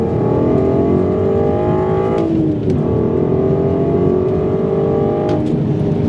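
A Volkswagen VR6 engine revs loudly and steadily, climbing and settling through its range, with the throttle blipped twice, heard close up without any talk.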